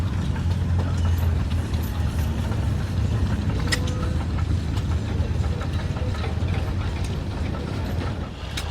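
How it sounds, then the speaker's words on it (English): A concrete mixer running at a farm demonstration of steam tractors and gas engines, a steady low rumbling churn that holds for the whole stretch, loud and continuous with faint outdoor background noise. "concrete mixer."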